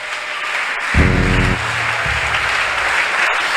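A church congregation applauding, a dense continuous clatter of many hands filling the room, with a brief low musical tone swelling under it near the start.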